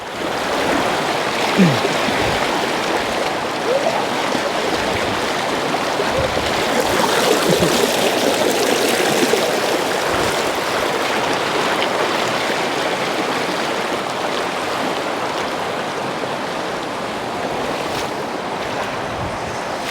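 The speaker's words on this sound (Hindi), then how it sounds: "सबसे तेज़ फ्लो नदी का यहाँ से है, इसलिए मैं यहाँ से पार नहीं कर पाया।" A fast-flowing river in Uttarakhand rushes steadily nearby, a loud broadband roar of churning water mixed with wind buffeting the microphone, continuous with no talking.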